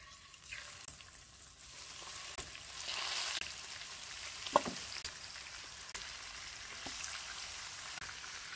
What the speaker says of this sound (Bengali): সেই তেলেই আমি চিকেনটা ফ্রাই করব